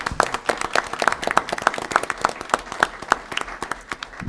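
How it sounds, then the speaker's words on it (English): At a village board meeting, a modest audience claps in a round of applause, the individual claps close and distinct, forming a lively uneven patter that stays steady for the whole stretch. "Let's give them a round of applause."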